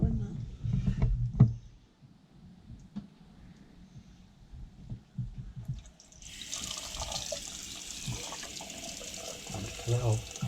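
Tap water runs steadily into a freshly plumbed narrowboat sink, a broadband rush starting about halfway through and continuing to the end, with people talking quietly over the first part and faint clunks around.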